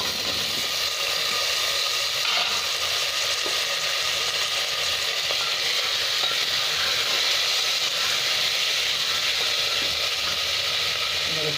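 Potatoes land in a hot pan with crushed green chili and ginger, giving a loud, continuous, hissing sizzle that stays steady and close with no pauses, with a few faint clatters underneath.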